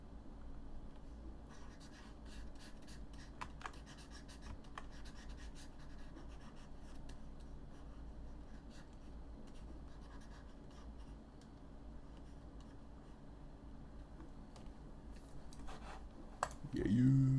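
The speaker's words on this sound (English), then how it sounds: "I'm drawing some Magitech armor." A pen scratching across paper in quick, light drawing strokes. The faint scratches repeat irregularly over a steady low background hum, with occasional quiet talk.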